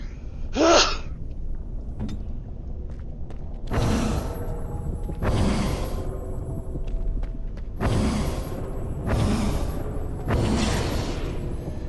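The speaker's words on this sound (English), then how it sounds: "I'm gonna sneeze" A single sharp sneeze near the start during a tabletop role-playing session, followed by several soft breathy exhalations or sighs spaced through the quiet remainder.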